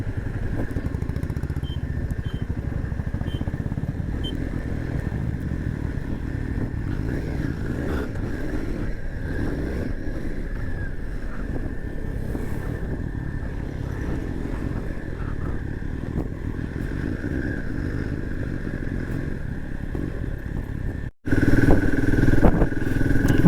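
Motorcycle ridden the wrong way through a long traffic jam on the road to Kaichi Dham, a steady close engine drone with road rumble and clatter throughout, then a sharp cut to louder wind and engine noise near the end.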